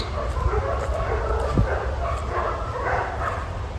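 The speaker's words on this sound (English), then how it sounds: "The dogs." Dogs bark and yip somewhere in the distance, a few faint, scattered barks over a constant background hiss.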